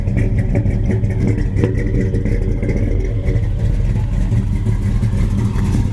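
A 1975 Plymouth Duster's engine runs steadily and loudly up close, a continuous low rumble with a faint rattle and no break throughout.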